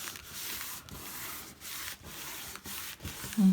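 A folded paper pop-up card gets a firm rub down by hand, making close, repeated scratchy rubbing strokes in an even back-and-forth rhythm, with no talking.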